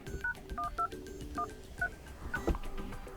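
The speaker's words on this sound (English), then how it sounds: "you can open the dialer, enter the code" Keypad tones from the dialer of an OPPO A6 Pro 5G phone as a code is entered: a string of short, separate beeps at an uneven pace, with faint low background noise.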